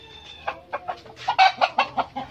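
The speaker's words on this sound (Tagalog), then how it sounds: "Kita nyo naman yung mga manok." A flock of chickens clucks in a series of sharp, rhythmic calls, about eight loud clucks packed into two seconds, heard close and without talk in a rural yard.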